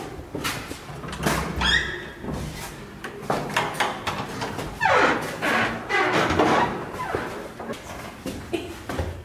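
Mechanical clunks and scrapes of a door being handled at the top of Czołpino lighthouse, with creaks and rattles spread over several seconds, fairly close and moderately loud.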